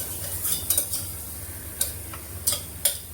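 Chole being stirred in a cooking pot with turmeric, sparse scattered scrapes and clinks of a spoon against the pot over a low background hum, no talking.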